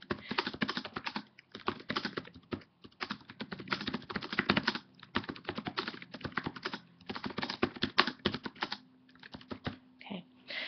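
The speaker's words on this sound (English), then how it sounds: "I'm just going to type in some text again just so that you can see the page working" Someone types text into a wiki page on a computer keyboard, close, busy runs of rapid key clicks broken by short pauses, continuing for most of the stretch.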